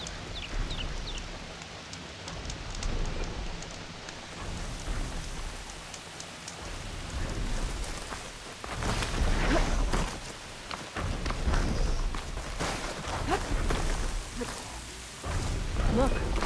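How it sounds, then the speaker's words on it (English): Steady thunderstorm rain in the video game Horizon Forbidden West, pattering on surfaces with low rumbling swells, while voices talk over it intermittently. "Watch for that thunderstorm."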